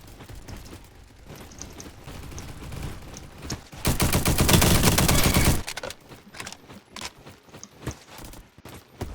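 An M249 light machine gun in a shooting video game fires a loud, sustained burst of about two seconds, with scattered single shots and quieter gameplay sounds before and after.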